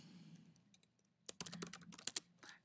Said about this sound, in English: In this case, I'm going to type in my name.